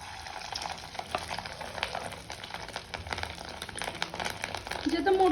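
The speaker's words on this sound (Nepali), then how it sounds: "यो चाहिँ त्यो माछा फ्राई भइसक्यो। अब चाहिँ म यसमा अन्डा हाल्छु" Fish and then egg frying together in a pan, giving a steady close sizzle and crackle with scraping stir noises that swell slightly toward the end, with a voice talking intermittently.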